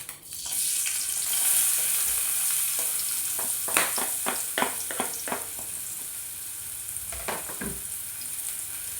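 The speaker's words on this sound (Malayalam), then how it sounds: "അതേ വെളിച്ചെണ്ണ ചൂടായി കഴിഞ്ഞാൽ നമ്മൾ നേരത്തെ അരിഞ്ഞ് വെച്ചിട്ടുള്ള നമുക്ക് സബോള ഇട്ട് കൊടുക്കാം" Chopped onions frying in hot coconut oil give a steady, bright sizzle, with a cluster of stirring scrapes partway through and another pair near the end.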